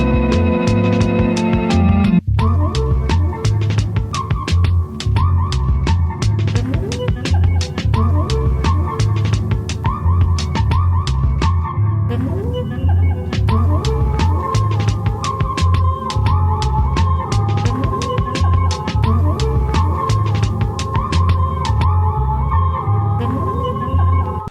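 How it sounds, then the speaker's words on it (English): A hip-hop beat with a wailing, siren-like synth line riding over steady thumping drums and a deep bass pulse, playing continuously and loud with no voices. "the added instrument here that kind of sounds like a siren"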